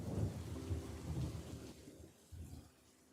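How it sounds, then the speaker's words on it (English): Powerful winter storm over a coastal county: steady heavy rain with deep rolling thunder rumbling underneath, fairly faint and continuous, briefly easing before surging again. "the county was once again hit with a powerful storm"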